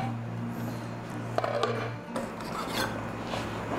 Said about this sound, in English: you want to be pretty constant with the way that you rub the meat